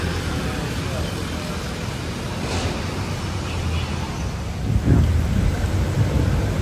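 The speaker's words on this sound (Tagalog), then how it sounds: "At pinabutan na tayo ng ulan dito sa Divisoria." Rain falls steadily on a Divisoria street, a constant broadband hiss with low traffic rumble underneath and faint voices in the background, swelling slightly louder near the end.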